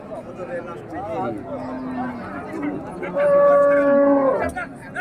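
Cattle at a village livestock market, with a loud close moo rising near the end over a constant murmur of crowd chatter and someone talking.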